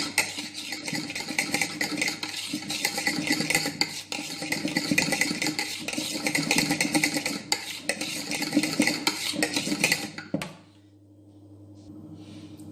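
A spoon clinks and scrapes steadily against a bowl while warm milk with dissolved gelatin is stirred into cream, a busy continuous rattle that stops abruptly near the end, leaving quiet room hum.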